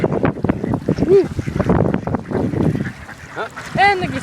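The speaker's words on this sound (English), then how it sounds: "And the geese are back." Geese honk at an outdoor bird-feeding spot, two distinct loud honks among rustling and splashing background sounds.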